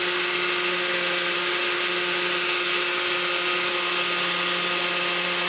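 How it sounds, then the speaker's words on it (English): A blender runs at high speed blending mango juice, with a loud, steady, high-pitched whine that holds unchanged throughout. "Blend between 3 minutes on high speed."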